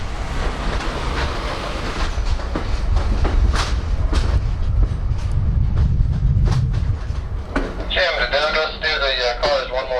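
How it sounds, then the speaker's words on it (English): Riding inside NS coach 29, a former Norfolk and Western car, behind steam locomotive N&W 611. A continuous rumbling clatter of wheels and car noise fills the ride, and a wavering tonal whistle rises near the end. "we boarded the train and rode NS coach number 29, a former Norfolk and Western car"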